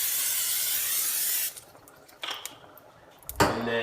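Cooking spray hisses steadily onto a pan heating on the stove for about a second and a half, then stops; a few faint clinks and a soft thud follow.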